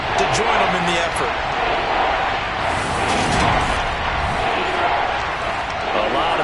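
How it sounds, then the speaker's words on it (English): Stadium crowd in an American football video game, a dense continuous roar of cheering voices throughout, with a commentator talking over it. "That just means this crowd's going to get even louder"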